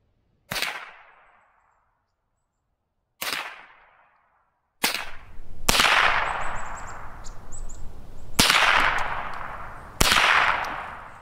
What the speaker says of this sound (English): Got my little Ruger 10/22 here.